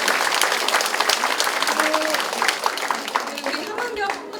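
A crowd at a campaign office opening for a National Assembly candidate in Mapo, Seoul, gives warm, sustained applause, loud and dense throughout, with voices and chatter audible underneath.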